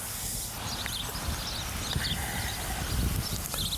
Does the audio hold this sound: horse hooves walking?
yes